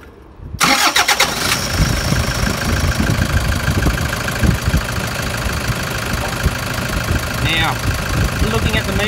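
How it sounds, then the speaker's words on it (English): A Toyota Hilux fitted with an upgraded high-output alternator cranks and fires after a short quiet moment, then settles into a steady, loud, close idle that runs to the end. "So I'm just going to start the engine up."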